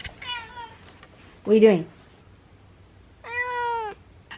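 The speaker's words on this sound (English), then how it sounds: "That's the cat." A house cat meows close by, with one short call at the start, a louder one in the middle and a long drawn-out meow near the end, while someone talks between them.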